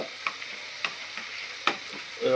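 Curry leaves go into hot oil in a frying pan, giving a bright, steady sizzle with a few light clicks from a stirring spoon and a louder burst of frying at the end.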